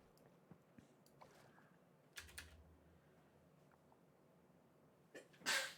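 A single sharp sneeze bursts out near the end during a quiet Minecraft gaming session, preceded by soft scattered keyboard clicks and faint background noise.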